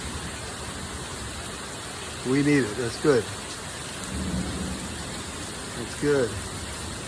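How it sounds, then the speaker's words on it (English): Heavy rain pours steadily off a roof with gutters overflowing, a constant hiss of water throughout, while someone speaks briefly over it a few times. "It's raining."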